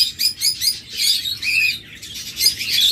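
A pair of violet opaline budgerigars squawks and chatters in a steady run of shrill, overlapping calls, close and fairly loud, with short gaps between bursts.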